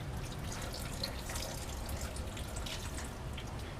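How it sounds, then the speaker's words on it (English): Tap water runs while a glass separatory funnel is rinsed in a lab, a faint, steady hiss of flowing and splashing water with no pauses. "So usually I'll just clean the separatory funnel by rinsing it thoroughly with water and putting it away"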